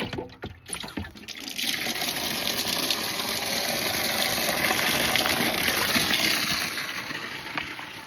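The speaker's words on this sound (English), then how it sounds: "I'm gonna go ahead and water these bell peppers." A hose gushes water onto bell pepper plants. A few brief knocks of handling come first, then a strong, steady, close stream pours without a break.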